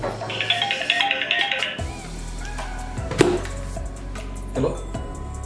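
A phone rings with an incoming call for a job interview. A bright tone warbles for under two seconds, then gives way to a quieter room with a few soft knocks and thumps.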